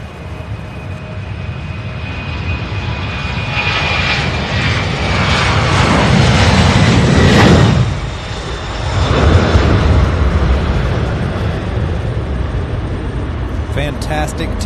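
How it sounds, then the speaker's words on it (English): A FireFly airplane takes off at SDF airport with a rising engine roar that peaks, dips and then trails off into a steady distant drone, under a person speaking. "Fantastic takeoff."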